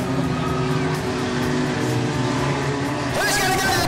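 Race cars, including Datsuns, run at Rockhampton Speedway, a loud continuous engine roar with revving that swells near the end, under faint commentary voices.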